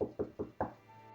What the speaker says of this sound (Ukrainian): Знову стукають у двері.